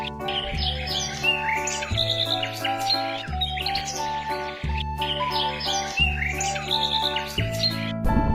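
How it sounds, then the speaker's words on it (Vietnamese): A seabird calls amid a bright chirping bird chorus, set over steady low music or background tones, with repeated squawking and tweeting phrases running throughout, fairly loud and continuous. "Hải âu cổ ruột."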